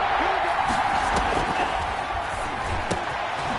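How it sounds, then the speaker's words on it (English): A stadium crowd in an American football video game with the Broncos playing roars steadily and loudly as a big third down approaches, a dense wash of cheering with a commentator's voice running over it. "the crowd getting into it as we come up on a big 3rd down"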